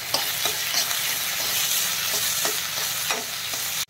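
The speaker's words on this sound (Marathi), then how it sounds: "त्यामध्ये आपण आपल्या ह्या शेवग्याच्या शेंगा पण टाकायच्या आहेत शिजवलेल्या, त्याही परतून घ्यायच्या त्याच्या बरोबरीनेच" Cooked drumsticks are stir-fried in spices in a pan with a steady close sizzle, punctuated by regular scraping stirs of a spoon.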